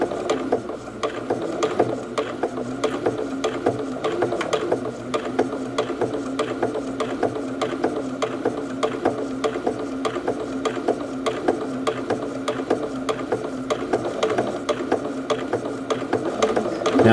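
A foot-pedal-controlled sewing machine runs steadily at speed, giving a continuous close mechanical whir with a fast, even ticking rhythm.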